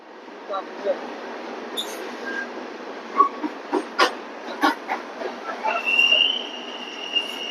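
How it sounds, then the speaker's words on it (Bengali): A passenger train pulls out of Durg Junction on the Durg–Ajmer service, with steady rolling rumble, scattered clanks and a rising wheel squeal near the end, heard close from on board alongside faint voices. "ট্রেন ছাড়লো দুর্গ জাংশন থেকে"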